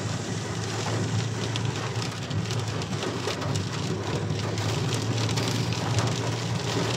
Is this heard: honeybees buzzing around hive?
no